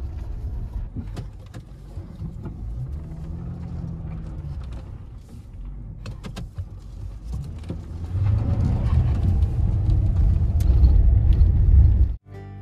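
A car driving on a desert track, its engine a low steady rumble with rattling and road noise that grows louder toward the end before cutting off.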